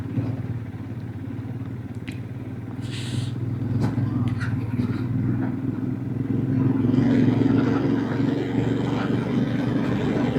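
A motorcycle in first gear climbs a damaged mountain road rebuilt after a landslide in Uttarakhand, its engine a steady low drone that grows slightly louder and rougher over the ride, with occasional light rattles.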